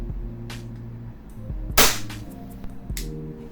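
A WE Trex Hicapa airsoft pistol is fired during an FPS test, giving one sharp, loud crack near the middle against a low background hum, with a few fainter clicks around it.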